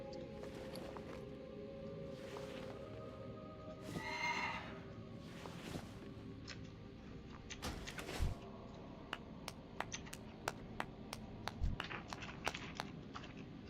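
A horse whinnies in World of Warcraft: The Burning Crusade, a clear neigh rising over steady background game ambience, followed later by a series of quick clip-clop hoof taps.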